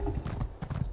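A horse mount made of mushrooms trots in the video game Elder Scrolls Online, its hooves giving a quick, rhythmic clip-clop of several close, fairly loud steps.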